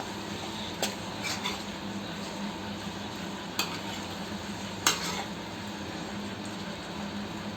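Chicken is stirred with turmeric in a pan, a steady low sizzle running throughout with a few sharp scraping clinks of the utensil against the pan.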